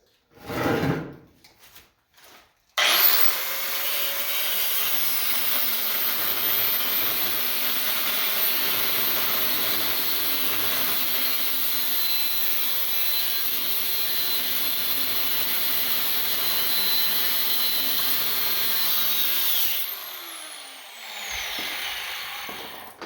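A power tool slices along the top of heavy copper cable: after a few short handling knocks, a loud, steady abrasive whine runs unbroken for about seventeen seconds, then drops away into quieter rattling.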